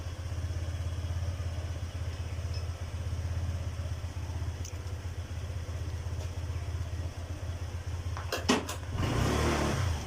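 A Honda Click 125i scooter idles on its side stand with a steady, low engine hum, then gives a few brief mechanical clicks and a slightly rougher patch near the end.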